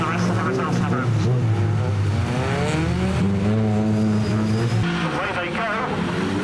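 1600cc production race cars launching together from the start at Standlake, engines loud and droning with harmonic revving and wheel spin, a commentator talking over the continuous roar.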